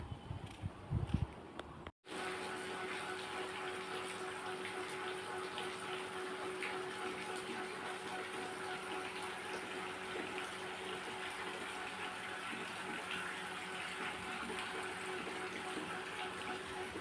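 Rain showers fall steadily during the monsoon, a constant wash of water noise after a brief pause, even and unbroken throughout.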